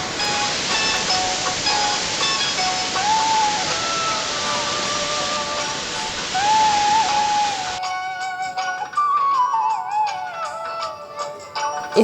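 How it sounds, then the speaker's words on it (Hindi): A large waterfall near Nagakoti on the Amarnath Yatra route gives a steady, dense rushing roar with faint whistling tones over it, then drops away after about eight seconds to a thinner outdoor hush. "नागाकोटी के समीप एक विशाल और अति सुंदर झरना"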